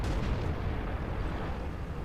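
Tiger (P) heavy tank's main gun fires in World of Tanks, a dense, loud, booming blast that rumbles throughout without a clear start or tail.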